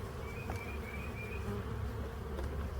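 Honeybees buzzing around an open hive in spring, a steady close hum of many wings with individual bees droning past, no voices.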